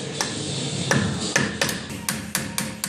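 A hammer strikes a small hub cap on a 1996 Toyota pickup during a CV axle change: about seven sharp metallic taps at irregular intervals, close and fairly loud, with no talking.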